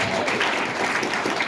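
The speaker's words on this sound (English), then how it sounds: "let's give a warm welcome and a round of applause for our wonderful speakers here" Brief, dense applause from an event audience welcoming speakers at a Web3 panel, an even wash of clapping with no gaps.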